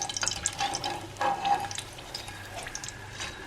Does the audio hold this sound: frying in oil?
yes